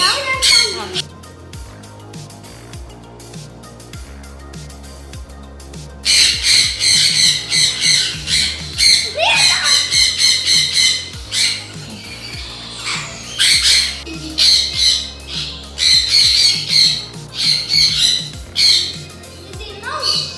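A grey parrot at feeding time lets out repeated loud, harsh squawks in bursts, close by, with quieter stretches between and people talking nearby.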